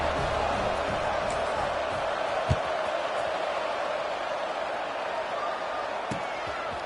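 Steady roar of a large football stadium crowd at an Oregon versus SMU game, a constant broad wash of massed voices with a couple of brief sharp thuds standing out.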